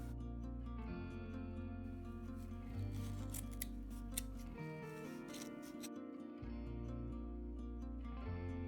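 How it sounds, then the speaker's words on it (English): A large pair of scissors snips repeatedly at the hair of a vintage Barbie doll, faint crisp cuts over a background of steady music. "To get started, I will be using a large pair of scissors and a pair of curved forceps."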